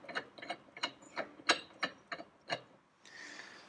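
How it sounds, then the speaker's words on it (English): A Ferguson TED20 cylinder sleeve puller is tightened, giving eight evenly spaced ratcheting clicks, close and crisp, followed by a brief hiss of noise. "as I tighten this, it pulls the plug up"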